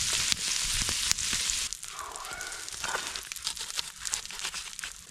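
Bacon chunks, green and yellow onions and chives fry in a little butter and oil at a wilderness camp, a steady crackling sizzle with brief stirring and rustling.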